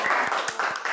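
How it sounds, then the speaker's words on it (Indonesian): Classmates in a school classroom applaud a student, a short burst of scattered hand clapping at moderate distance, rhythmic and a little uneven, with no voices. "Berikan aplaus buat Ara."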